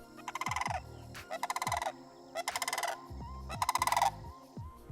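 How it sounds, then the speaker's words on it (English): Loud red-headed wetland bird in southwest Florida giving a series of rolling, rattling bugle calls in four bursts, each a rapid pulsing trumpet with low guttural undertones, close and clear with no talk. "They kind of sound like dinosaurs when they make their noises, which is really neat."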